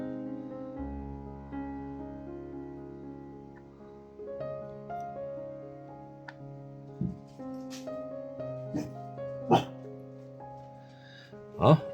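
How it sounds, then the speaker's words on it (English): A dog barks a few times in quick bursts near the end, sharp and fairly close, over a steady background of layered tones. "my dog now decided to be loud"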